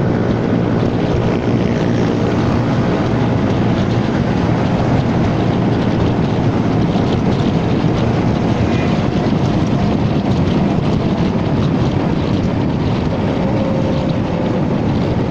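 A Honda Forza 300 scooter with a stock roller set and an aftermarket exhaust is ridden at speed, its steady engine drone and road rumble mixed with constant wind buffeting on the microphone, loud and unbroken throughout.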